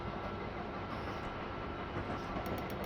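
A train rolls along the Northeast Corridor in a train simulator game, giving a steady dense rumble and wheel noise that holds evenly for the whole stretch, close and loud, with no talk.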